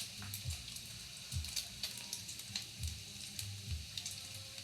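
Bacon fries in a pan with a soft, continuous sizzle and faint crackling pops, close but quiet, with no talking.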